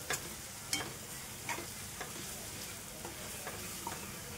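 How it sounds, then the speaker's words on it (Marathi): Green masala paste sautéing in oil in a pan, a steady soft sizzle running throughout with occasional light taps of a stirring spoon, close and fairly quiet. "आपण हे 1 चमचा हिरवं वाटण टाकून देऊया आणि याचा कच्चापणा कमी होईस्तोवर जरा आपण तेलावर परतून घ्यायचं आहे"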